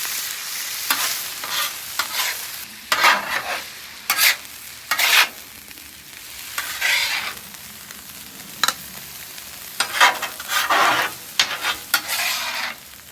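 Chorizo frying and being stirred on a Blackstone flat-top griddle, a steady close sizzle broken by repeated bursts of scraping and stirring, with no voices.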